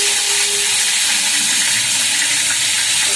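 Chopped teasel gourd fries in a pan with turmeric, a steady, dense sizzle and hiss holding at constant loudness throughout, with no talk over it.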